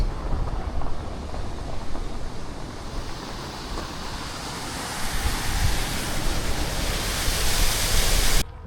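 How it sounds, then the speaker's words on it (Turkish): Water pours steadily down a weir on a river, a dense, continuous rushing roar that holds close and even throughout, ending abruptly. "ah buraya kadar aşağı indiriyorlar suyu."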